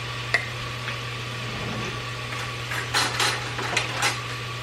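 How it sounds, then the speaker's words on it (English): Frozen chopped onions go into a pan with a few clinks and scrapes of a utensil against metal, soft and close over a steady low kitchen hum, no talking. "So I'm going to add some of the frozen chopped onions."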